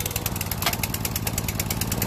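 Honda GX200 small engine that is hard to start and won't stay running, giving a rapid, rough, chugging mechanical rhythm, loud and close throughout the short stretch with no voices.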